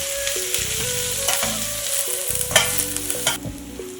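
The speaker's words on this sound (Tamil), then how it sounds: "எல்லாத்தையும் நல்லா வதக்கி விட்டுடலாம்." Chopped onions and curry leaves sauté in hot oil in a pan for a crab gravy, sizzling steadily while a spoon scrapes and stirs in repeated close strokes, with no talk.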